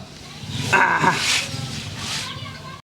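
A police dog barks a few times in the middle distance, mixed in with people talking and steady background noise.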